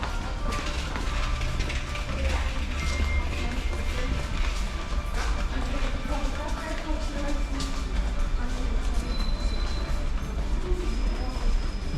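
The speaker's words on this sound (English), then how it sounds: "It's a metro or subway?" Metro train at an Almaty subway station, a steady rumbling roar with mechanical clatter and faint whines running throughout, voices talking over it.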